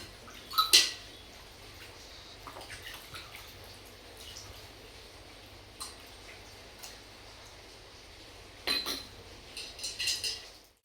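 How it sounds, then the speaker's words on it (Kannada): Metal puja vessels being washed during the Varamahalakshmi festival, with faint scattered clinks and taps over a low watery background, a few brighter clatters near the start and toward the end. "ದೇವ್ರ ಪಾತ್ರೆ ಎಲ್ಲ ವಾಶ್"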